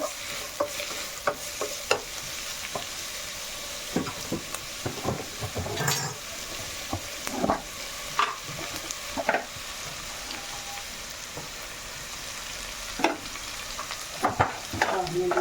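Onions frying in a pan for a homestyle Kerala chicken curry, sizzling steadily while a spoon scrapes and stirs in irregular close knocks and clatters throughout.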